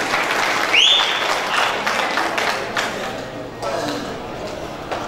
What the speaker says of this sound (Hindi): बहुत जोरदार ताली हो जाए उनके लिए।